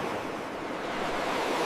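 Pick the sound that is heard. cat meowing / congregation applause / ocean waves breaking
ocean waves breaking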